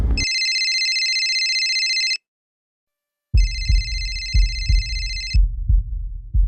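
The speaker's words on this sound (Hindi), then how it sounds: "मैंने विजय को शाम 4:55 को फ़ोन किया।" An outgoing phone call rings out in a Crime Patrol drama: two long, bright electronic ringing bursts separated by a short silence, followed by a few dull low thumps.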